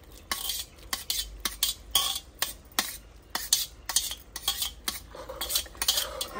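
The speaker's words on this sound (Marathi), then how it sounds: "आपण गाजर टाकून घेऊ" A spatula stirs carrots into a pan of vegetables roasted in ghee with cumin on a griddle, giving repeated sharp metallic scrapes and clinks at an uneven, steady rhythm, close and clear.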